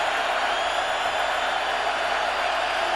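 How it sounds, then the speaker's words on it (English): A football stadium crowd at a Miami versus Virginia Tech game roars as a steady, broad wash of distant noise, unbroken for the whole stretch. "What a crowd really trying to help out with a lot of noise."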